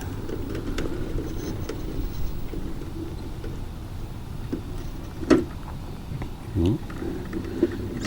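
A 1/24 scale RC car driving, giving a faint whirring motor hum with small bumps and clatters as it moves, under light background noise.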